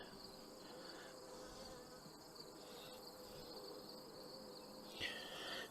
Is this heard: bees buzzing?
yes